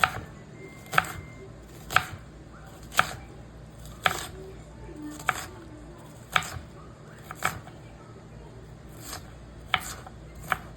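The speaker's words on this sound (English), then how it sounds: "And I'm gonna just chop this." Leftover onion being chopped with a knife on a board: about ten evenly spaced, crisp chops roughly one per second, close and clear, with no speech.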